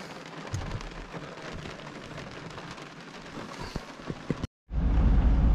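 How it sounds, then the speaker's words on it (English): Steady patter of rain on a camping truck and surrounding surfaces at a creek, with occasional sharper drops and taps; a brief cutout, then a louder rush of rain with low rumble. "Just a little rainstorm."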